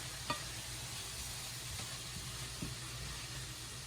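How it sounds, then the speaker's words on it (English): Carrots and cauliflower rice sauté in a hot pan, giving a steady, faint sizzle throughout with a few soft clicks of stirring, no voices. "We'll saute this for about 3 minutes."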